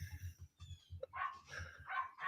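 Several dogs bark from some distance away in a quick, repeated series of low yips and woofs. The barking is faint and steady, with no talking over it.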